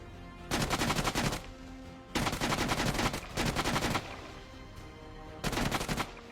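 Four loud bursts of rapid automatic gunfire in BGMI training-ground practice, each lasting about a second or more and separated by short pauses, with no talk over them.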